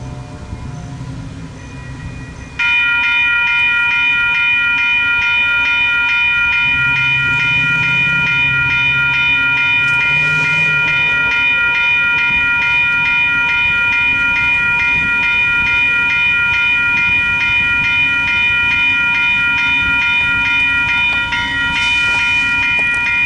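VIA Rail train 568 rolls past nearby, a loud sustained rumble of wheels and cars with a steady high ringing tone over it, continuing for a long stretch.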